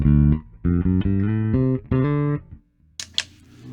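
A bass guitar played through a Joyo Tidal Wave pedal with slight drive plays a short run of loud, separate notes, then a couple of fainter, noisy string scrapes close the phrase.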